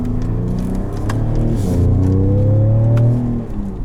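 A 2019 Ford F-150 Raptor's V6 engine accelerates, its close, loud mid-pitched drone climbing steadily in pitch over a few seconds, with a brief dip as it shifts before rising again.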